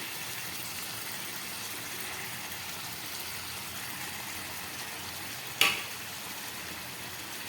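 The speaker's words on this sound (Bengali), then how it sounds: "ঝোলটা ফুটে উঠেছে এবার আমি মাছগুলো দিয়ে দিচ্ছি" Pieces of bhola fish go into a boiling curry gravy with coriander leaves: a steady, close bubbling hiss throughout, broken once by a single brief sharp knock or splash, with no voices.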